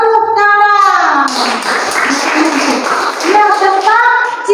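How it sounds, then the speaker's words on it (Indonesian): Students in a classroom burst into a short round of hand clapping, a noisy patter lasting about two seconds, framed by voices talking before and after. "Ya, tepuk tangan."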